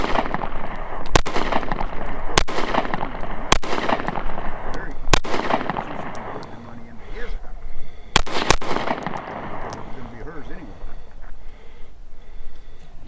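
Sharp 9mm pistol shots from a Kimber Micro 9 and a 1911, loud and close, fired singly at uneven intervals, with a quick pair near the end and echoing tails between.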